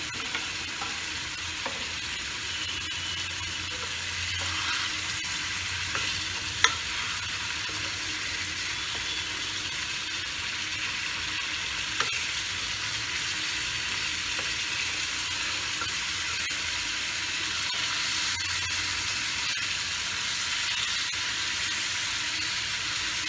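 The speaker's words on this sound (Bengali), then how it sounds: "হালকা ভেজে নেব।" Pieces of boal (wallago catfish) fry lightly in hot oil in a pan, giving a steady, even sizzle that holds unbroken throughout with a few small pops and no voices.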